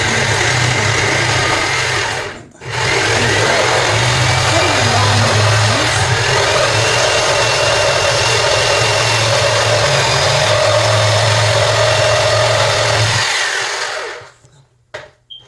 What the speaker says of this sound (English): now what I have here now is my jigsaw